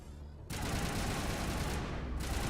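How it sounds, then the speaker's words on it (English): Sustained turret gunfire in the Mass Effect video game on Insanity difficulty: a loud, dense, unbroken barrage erupts after a brief quiet start and keeps roaring to the end. "Turret should be firing at him."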